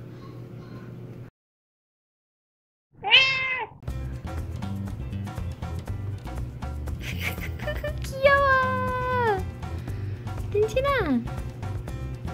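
Cats meow indoors while laundry is being done: several drawn-out, rising and falling calls, at close range, over steady background noise and a brief silent gap near the start.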